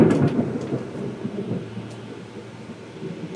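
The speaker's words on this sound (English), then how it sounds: "Storms are brewing." Thunderstorm sound effect: a deep rolling rumble of thunder over steady rain, loud at first and gradually easing, with no voices.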